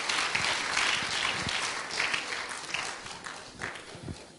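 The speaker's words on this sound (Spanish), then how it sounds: "Dele un aplauso fuerte al que nos ha hecho libres." Church congregation applauding loudly during a sermon, a dense burst of clapping that gradually thins out over a few seconds, with no talk over it.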